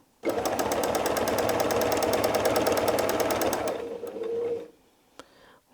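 A sewing machine quilting a heart-shaped arc runs close and loud in a fast steady stitching rhythm for several seconds, slows briefly, then stops, leaving near silence with a faint click.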